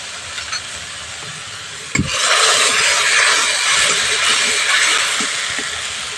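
A spice paste of green chilli, ginger and tomato goes into hot oil for a green banana kofta curry, setting off a sudden loud sizzle and hiss after a soft thud. The sizzle then holds steady and close to the end.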